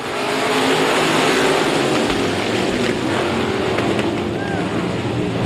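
Race cars accelerate together at a green flag start on a speedway oval, a loud, steady wall of engine roar that stays dense and sustained throughout, with crowd or announcer sound blended underneath.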